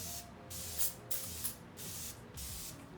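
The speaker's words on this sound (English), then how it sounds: "I'm gonna go ahead and spray my face with this" A facial hydrating mist is sprayed onto a face in several short, close hissing bursts separated by brief pauses, with no talk.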